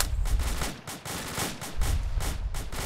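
Rapid double-tap rifle shots with live ammunition in Arma 2 fireteam training, sharp cracks in quick pairs repeating steadily, loud and close, with little talk.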